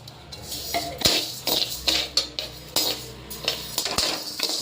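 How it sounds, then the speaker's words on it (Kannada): Urad dal roasting dry in a pan while being stirred with a metal spoon, giving repeated scraping clinks and light rattling against the pan for sambar powder, fairly close, with no voices. "ಉದ್ದಿನಬೇಳೆ ಹುರ್ಕೊತಾ ಇದ್ದೀನಿ"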